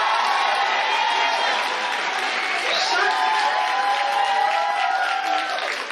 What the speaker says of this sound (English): please give Yamish a round of applause